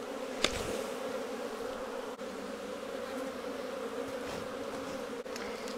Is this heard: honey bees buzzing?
yes